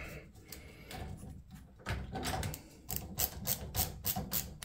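A MegaPro ratcheting screwdriver turns a screw on a door knob, giving quiet, close clicking ratchet bursts in short irregular runs.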